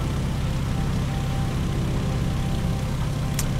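Steady droning radial engine of a Stearman biplane in a flight simulator game, a constant, loud propeller hum with no break, ending in a brief high click.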